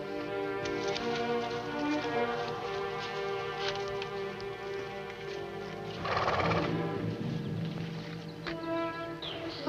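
Horse neighing loudly with hooves clip-clopping nearby, a sharp whinny rising midway through the clip.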